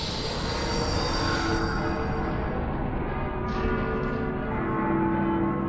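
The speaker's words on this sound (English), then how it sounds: "The bell's tolling." Church bells toll in the Final Fantasy XIII video game, a sustained ringing wash that fills the scene steadily with no talking.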